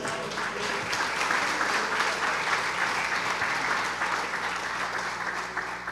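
A church congregation applauds in a steady, dense wash of clapping that holds at an even level throughout, with no voices rising above it.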